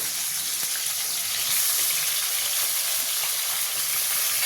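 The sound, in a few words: tomatoes frying in hot oil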